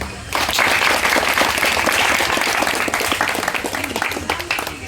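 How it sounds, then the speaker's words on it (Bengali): A large crowd applauds at a jatra troupe's celebration, a dense, loud wash of clapping that starts abruptly and carries on steadily to the end, with faint voices underneath. "সকলে সোনার বাংলা যাত্রা সংস্থার বর্দার সংসারের উদ্দেশ্যে একটি হাততালি দিন"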